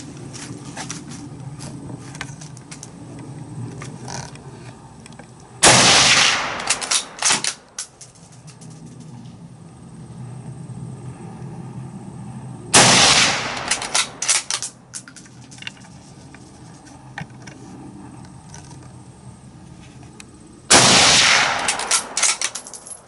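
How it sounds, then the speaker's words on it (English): Three loud, sharp Kar98k bolt-action rifle shots at widely spaced intervals, each followed by a brief echo and handling noise, with low ambient background between them. "Let's do some more shooting."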